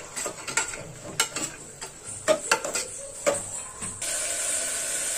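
Pavta beans are sautéed with turmeric in a pan, a spoon scraping and clacking in quick irregular strokes that are close and fairly quiet, followed by a steady soft sizzle.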